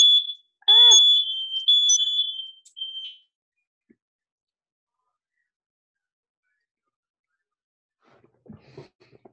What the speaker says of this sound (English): sorry, smoke alarm went off